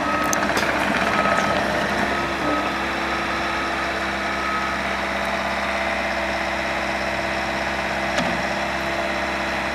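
A 2021 Bobcat T66 skid steer with a 74-horsepower engine runs at a steady idle, its low rumble continuous while a repeated reversing beep sounds over it, close and fairly loud.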